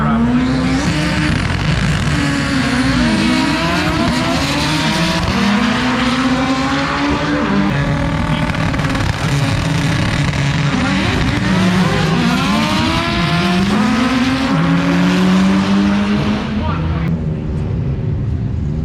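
Two drag race cars launch side by side, one a 1995 Honda Civic, with loud revving engines climbing through rising gear changes, tyre noise and a wash of crowd and announcer talk underneath.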